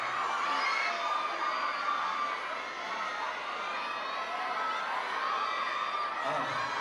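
A large festival concert crowd screams and cheers loudly and continuously, with high-pitched whoops and yells blending into a steady roar.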